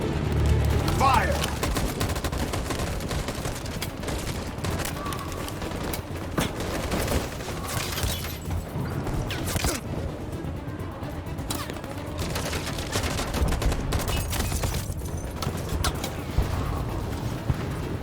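Gunfire volley in Detroit: Become Human on PS5, a dense, loud burst of rifle shots and rattling fire that runs continuously for about eighteen seconds, with mechanical clatter and voices mixed in.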